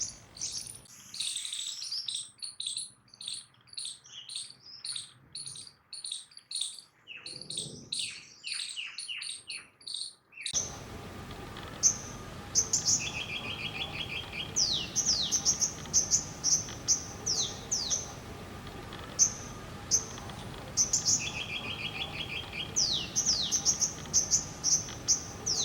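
Birds chirp and call in a winter setting in India, repeated short bright tweets and sweeping whistles, alone and fairly near, with insect-like trills and soft ambient hum.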